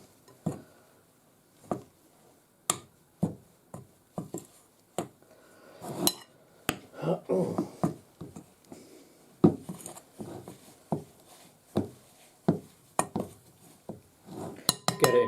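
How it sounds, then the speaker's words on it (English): Pastry dough for roast beef pasties being mixed in a bowl, with a spoon knocking the bowl in a steady series of sharp clinks about every second, plus a busier scraping patch in the middle. "Get pastry mix nice and stiff."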